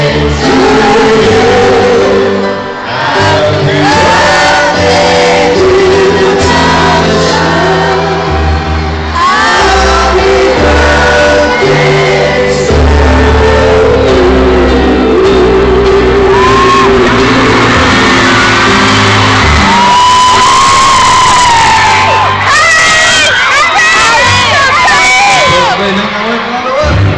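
A large concert crowd of fans in Hong Kong shouts, screams and cheers continuously and loudly, with dense layered voices and whoops swelling and dipping throughout.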